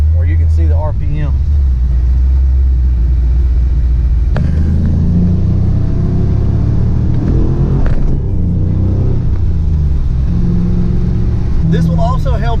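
A Ford Mustang Foxbody engine idles with a slightly fluctuating RPM after a base idle reset and TPS adjustment, a loud, close, steady low rumble with small swells, and someone talks over it.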